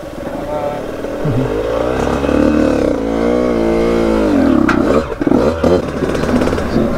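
A Yamaha YZ85 enduro motorcycle revving on a dirt trail, engine whine rising and falling through gears up close, with clattering and a rider's voice over it.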